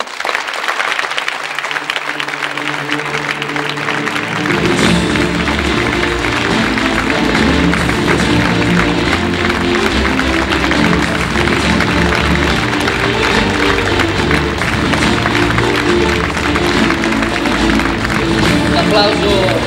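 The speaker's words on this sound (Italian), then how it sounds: "Applauso meritatissimo" An audience applauding swimmer Alessio Boggiatto at an award ceremony on stage: loud, sustained clapping from a large crowd that swells after a few seconds and continues steadily, with music and crowd noise underneath.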